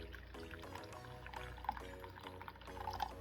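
Pre-boiled water poured into a pot of quinoa on a small butane stove, a quiet intermittent trickling and splashing in short bursts, no talk.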